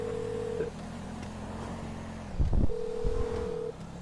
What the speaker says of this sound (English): so I'm gonna make a phone call.